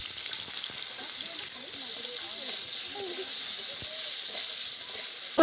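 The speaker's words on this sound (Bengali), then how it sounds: "ভেজে নেব আলু।" Potatoes fry in mustard oil in a wok, giving a constant, moderately loud sizzle with faint crackles throughout.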